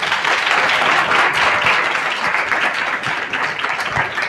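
Audience applause after a spoken Christian youth message, a dense, steady wash of many hands clapping loudly and continuously throughout.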